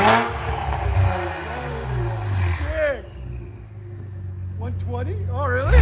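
2017 Infiniti Q60 Red Sport 3.0L twin-turbo V6 with no cats and exhaust valves open, idling and then blipped in sharp revs, loud and near, while people talk over and between the engine bursts.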